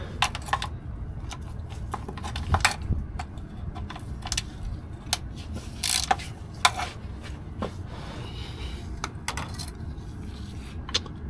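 A ratchet works the 13mm bolts off the transmission pan of an Allison 2400 transmission. The clicks come in quick irregular runs, close by, with light metallic taps and clinks against a low steady background hum.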